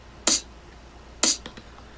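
Two crisp snare hits about a second apart, programmed in FL Studio, clear and dry against a quiet background.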